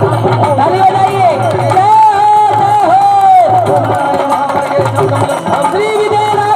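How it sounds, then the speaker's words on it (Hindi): A Ramleela audience at a temple stage in Amarpatan cheers and claps as a steady crowd roar, loud and continuous, with voices calling out through it. "ताली बजाइए।"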